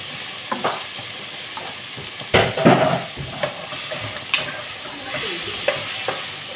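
Food being stirred in a sizzling frying pan, with a spatula scraping and clacking against the metal in a few uneven strokes and a louder burst of stirring midway, close and clear with no talk.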